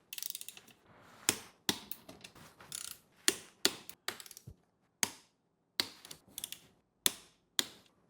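Torque wrench tightening bolts on a Surron electric bike to 20 Nm, a series of crisp ratcheting clicks in short bursts separated by quiet gaps, close and unaccompanied by speech.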